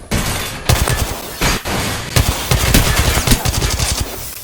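Rapid automatic gunfire from a firefight in the Apex Legends video game, loud and continuous with dense bursts of shots and a few heavier booms layered throughout.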